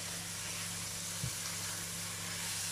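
A low steady sizzle of food frying in a pan, soft and continuous, with a brief faint clink partway through.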